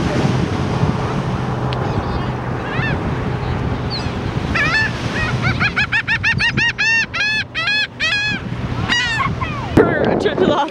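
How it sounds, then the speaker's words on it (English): Seagulls call at a beach, a run of repeated squawks growing busier midway, fairly close over steady wind buffeting the microphone, with people talking nearby. "So I got a bunch of seagulls close to us."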